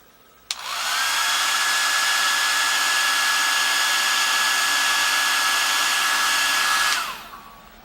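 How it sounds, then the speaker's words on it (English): A handheld hair dryer switches on with a click, blows a steady loud whine for about six seconds while heating the adhesive on a nail wrap, then winds down and stops. "you're going to use your hair dryer if that's what you have"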